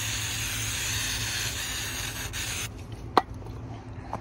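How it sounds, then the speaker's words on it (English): Bumper stripper sprayed from a can onto an old steering wheel, a steady close hiss of spray running for a few seconds, then stopping, with one sharp click near the end. "So I'm taking this bumper stripper"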